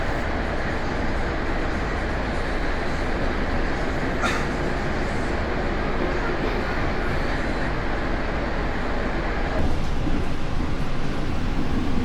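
KA Bangunkarta passenger train, a New Generation trainset, running steadily with a dense continuous rumble and rail roar heard from on board, loud and unbroken throughout.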